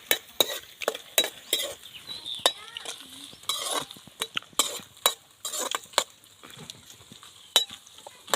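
Dried red chillies and onions fry in a pan over a wood-fired stove, with steady sizzling broken by repeated sharp scrapes and clinks of a stirring spoon against the pan.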